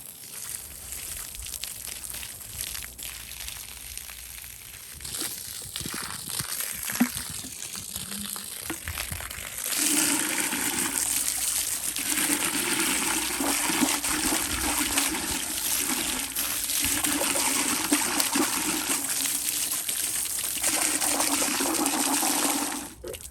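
Water from a garden hose outdoors rinses Bissell CleanView vacuum parts, a quieter trickle and splash at first that swells into a steady, loud gushing stream for the second half.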